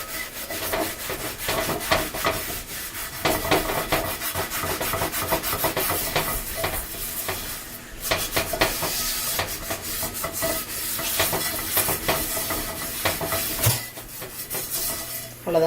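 A cast iron pan is scrubbed with salt, a little water and a scrubber, giving continuous gritty rubbing strokes. The abrasive scraping keeps an uneven back-and-forth rhythm, close and fairly loud throughout.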